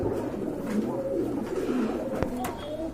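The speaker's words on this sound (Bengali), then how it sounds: "এখানে কিন্তু আরেক জোড়া কবুতর হোয়াইট বিউটি হোমা" White Beauty Homer pigeons coo softly and repeatedly nearby, low rolling calls over a murmur of background noise, with a couple of sharp clicks partway through.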